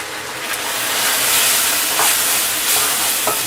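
Dry spice powders sizzle and hiss loudly in a hot pan for prawn malai curry, a steady broadband frying noise with occasional stirring scrapes and no talk.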